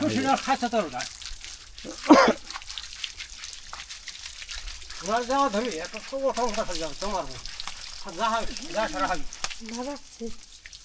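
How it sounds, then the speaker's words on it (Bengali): Water trickles and splashes over a cow being bathed on a village homestead farm, a soft steady pour heard near and beneath frequent talking and an occasional sharp bang. "প্রত্যেক দিন কিন্তু নিয়মিত খুব সুন্দরভাবে এইভাবেই গরু গোসল করানো হয়"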